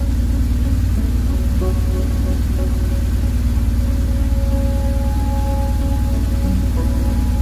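A BMW R 1150 GS motorcycle engine idles steadily while its oil warms toward about 100 °C, a continuous low throbbing hum with no break, close and fairly loud.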